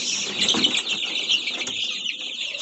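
Young chicks peeping in a steady, high chorus of overlapping calls, close and fairly loud throughout, with a few clucking notes mixed in.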